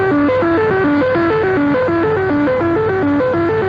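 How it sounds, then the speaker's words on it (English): Axis radio jamming picked up on an ordinary radio set in 1942 gives a loud, continuous pattern of stepped, repeating warbling tones cycling rapidly over a constant hiss. "Jamming, by the way, is an Axis monopoly and can be heard all around the dial of an ordinary radio set"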